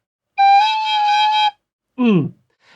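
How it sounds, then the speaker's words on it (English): A shrill, squeaky tin whistle note from an air leak, held for about a second, followed by a short cracking squeal as the tone breaks. "you will often end up with a squeaky, annoying sound like this."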